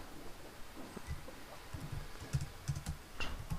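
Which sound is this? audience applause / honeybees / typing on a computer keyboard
typing on a computer keyboard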